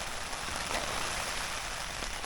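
Steady rain patters on a tent during a wild camp in the Welsh mountains, a dense continuous hiss that holds at an even level throughout with no voices.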